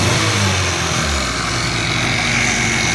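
A car engine fitted with an eBay aftermarket intake revs up loudly and close, giving a dense, steady roar that surges and holds through the short stretch, with no speech.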